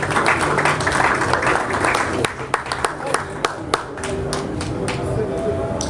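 A small audience applauds at a literary reading event, with steady clapping that thins into a few sharp individual claps, mixed with background voices and room murmur.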